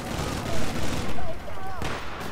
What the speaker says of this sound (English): You see the building I'm firing into?